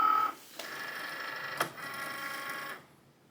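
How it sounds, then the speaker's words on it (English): A Cricut Maker cutting machine cuts a shape from colored cellophane with a close, whirring motor hum and faint clicks and a couple of sharper taps, running about three seconds before stopping. "load this back into the Cricut cutter"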